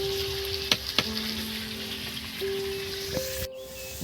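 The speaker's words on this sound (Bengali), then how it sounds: "আলুটা তেলের মধ্যে আমি হালকা লালচে কালার করে নিয়েছি ভেজে" Potatoes frying in hot oil, a steady soft sizzle broken by a few sharp clicks and clatters of a utensil, with no voices.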